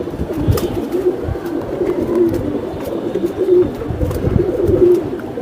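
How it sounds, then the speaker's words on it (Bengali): Giribaj pigeons coo repeatedly in soft, rhythmic bursts close by, with light rustling and scattered clicks around them. "এটা কবুতরটা"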